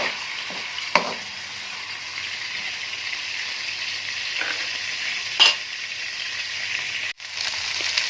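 Ginger garlic paste frying in oil for a mutton karahi, a steady soft sizzle with occasional stirring scrapes and clinks, close and continuous with no talking.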